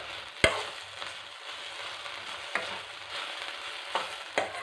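Egg kothu chappathi sautéed in a pan, with a steady sizzle of frying under a few sharp scrapes of a spatula stirring against the pan.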